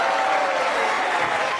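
A crowd at a live Colombian vallenato performance applauds the singer's wife, giving a dense, steady, fairly loud wash of clapping throughout.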